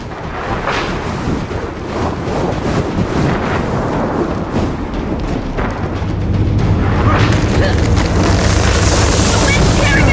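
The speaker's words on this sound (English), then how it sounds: "The wind's tearing everything apart!" A howling windstorm in the video game Gears of War 4 roars continuously with loud, buffeting gusts that grow stronger and more hissing toward the end.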